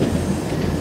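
Train 13125 from Kolkata to Sairang rounds a curve, its carriages giving a close, dense rumble with rhythmic clatter from the wheels and a hint of wheel squeal, continuous throughout.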